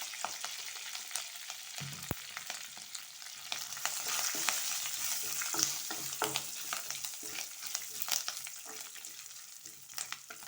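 Curry leaves and cashews fry in hot oil, a quiet continuous crackle with sharp pops and light stirring clicks, heard up close with no voices.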